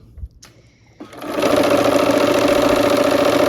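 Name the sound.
sewing machine stitching quilt block edges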